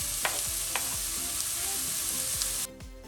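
Chopped vegetables with a small chopped red pepper frying in a pan for vegetable bao filling: a steady bright sizzle with several scraping stirs of a utensil, then the sizzle drops away abruptly near the end.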